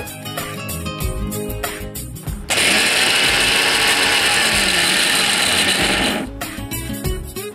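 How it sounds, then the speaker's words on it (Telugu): Mixer grinder roughly grinding whole spices with garlic cloves for pumpkin rasam: a loud, steady whirring burst of about four seconds, with music before and after it. "కొద్దిగా వెల్లుల్లి రెబ్బలు కూడా వేసి ఒకసారి రఫ్గా తిప్పేసేయాలి, మెత్తగా కాకూడదు అనమాట."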